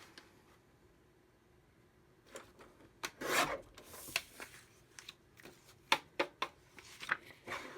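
Card stock cut for handmade cards, heard as a series of close rasping, sliding strokes and short scrapes that grow denser after a quiet start.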